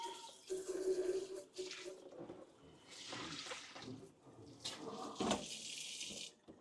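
Hot water from a sink tap runs over an OASE BioMaster Thermo 850 aquarium filter's media basket being rinsed, a faint splashing rush that surges and breaks off irregularly with clatters as the basket is moved.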